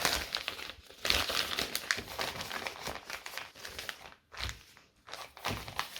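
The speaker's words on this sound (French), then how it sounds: "On peut retourner le sachet." A freezer bag with sewn sides is turned inside out by hand, giving close, irregular plastic crinkling and crumpling in bursts with short pauses, with no one speaking.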